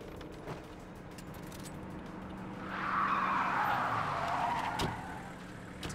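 A car arrives to pick up the player in Splinter Cell Conviction, its engine and tires rising to a rushing swell midway, then easing off over a quiet ambient background.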